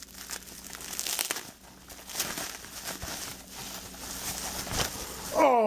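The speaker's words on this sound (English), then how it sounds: "Tape on bubble wrap." Gift unwrapping with tape peeled off bubble wrap and wrapping paper, giving close, steady crinkling and crackling with brief tearing bursts, then a short voiced exclamation at the very end.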